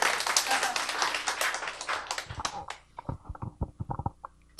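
Audience applause from a gathered crowd at a Korean testimonial event, a dense burst of clapping that thins out into a few scattered, separate claps before stopping.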